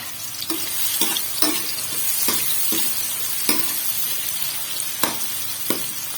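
Onions fry in hot oil in a pan for an aloo anday breakfast, giving a bright steady sizzle with regular scraping strokes of a spoon about every half second, close up and with no voices.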